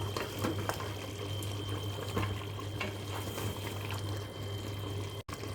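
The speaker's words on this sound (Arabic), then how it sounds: "دابا غادي نروج الماء سخون" Hot water poured into a pot of frying meat for a Moroccan meat, potato and pea stew: a steady close hiss and bubbling wash of liquid, alone and continuous for several seconds.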